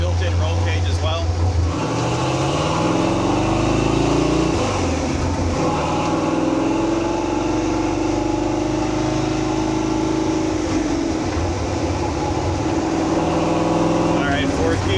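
A 1935 Ford Factory-Five race truck with a 427ci engine under way, its engine droning and rising through the gears in a steady close roar, with someone talking over it.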